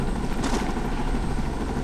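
A large helicopter in the video game Ghost Recon Breakpoint drones close by, its engine and rotors making a continuous loud rumble with a steady mechanical whine and faint clatter.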